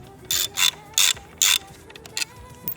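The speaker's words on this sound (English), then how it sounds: "we have to take some bolts off to get the tail off of the bike" A ratchet tool removes bolts from the tail section of a 2025 Honda CBR600RR motorcycle, giving several short, close clicking bursts in an uneven rhythm with quieter taps between them.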